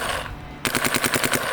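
Rapid bursts of shots from a Shocker paintball marker, loud and close, firing in a quick regular rhythm after a brief lull with no talk.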